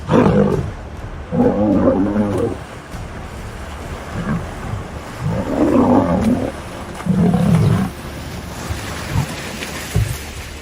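A lion roars in a sequence of deep, rumbling bursts, four or five heavy grunting roars spaced a few seconds apart over a low, continuous background rumble, loud and close.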